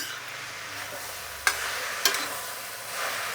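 A spoon stirs oil and cabbage in a pan, making two distinct scraping knocks against the metal over a faint, steady sizzle, close by and with no voices.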